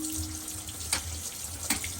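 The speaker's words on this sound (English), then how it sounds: "I'm going to rinse them in cold water here." Cold tap water runs steadily into a sink as cooked pasta for a lazy pierogi casserole is rinsed, an even hiss with a couple of soft splashes.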